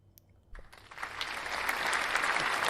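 Studio audience applause welcoming a guest onto a live show, starting from a few scattered claps and swelling within a second into loud, sustained, dense clapping that holds steady, with no voices over it.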